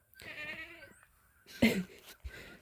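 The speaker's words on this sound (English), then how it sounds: "My goat's talking to me out there." A goat bleats outdoors beside a home research garden, a drawn-out wavering call followed by a louder, harsher bleat, somewhat distant and fairly quiet.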